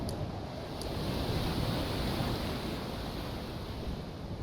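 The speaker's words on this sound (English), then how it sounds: "A rough day on the sea." Stormy sea waves roll and wind roars in the Viking sailing game Expeditions: Viking, a dense, steady wash of surf and gusting air at sea with no voices.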